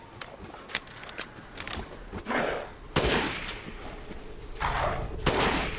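Rapid gunfire in the video game Resident Evil Village, sharp cracking shots in quick bursts with a few longer rattling volleys, loud and close, no talking.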